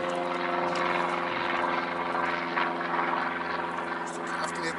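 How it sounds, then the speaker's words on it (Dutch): A small propeller airplane passes overhead near Eelde airport, a steady loud engine drone with harmonic hum throughout, over outdoor background at a lakeside fishing spot. "Vliegt hier regelmatig een vliegtuigje over."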